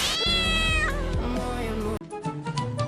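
A cat meows loudly and close in a drawn-out rising wail, then a rougher second cry follows after a brief cut, with no talk over it.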